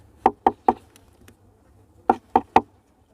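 Someone knocks on a wooden honeybee hive in winter, giving two quick sets of three close, sharp raps separated by a short pause, with only a faint low hum of bees underneath.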